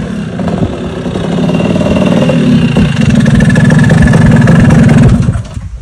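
A tuned Vespa scooter engine with a resonance exhaust runs on a dyno, rising from idle into a loud, steady, buzzing drone that holds close and strong before dropping off at the end.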